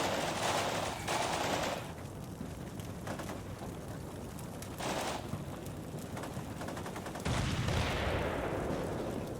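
Gunfire from a modern combat video game set around tank battles with Leopards and T55s, bursts of rapid shots and heavy blasts repeating across the scene, loud and continuous with a rain-like crackle between volleys.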